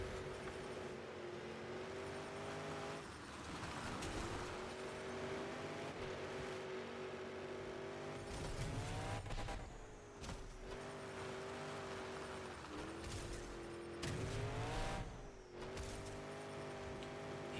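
A monster truck drives in the Monster Jam Showdown video game on an Alaskan wilderness circuit, its engine a steady droning hum that rises and falls in pitch with throttle changes, plus occasional thumps from landings.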